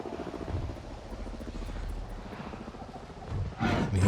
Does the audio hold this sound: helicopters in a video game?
yes